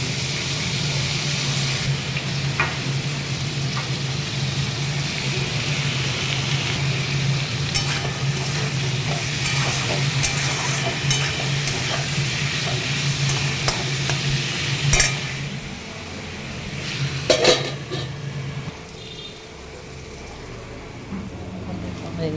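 Teasel gourd and potato frying in a pan with salt and turmeric, a steady close sizzle with repeated scraping stirs, fading toward the end as a few clatters sound out.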